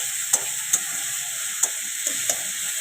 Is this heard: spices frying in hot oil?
yes